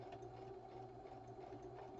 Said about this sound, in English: I'm going to just go back in there on that sewing machine, and I'm just going to make it a little tighter